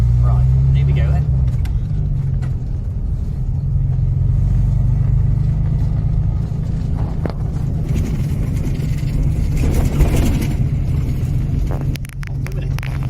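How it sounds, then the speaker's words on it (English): An Austin A125 Sheerline vintage car with poor brakes drives slowly around a corner, its engine a loud, steady low rumble close by, while people talk over it. "Taking it around a corner because I can't stop very well."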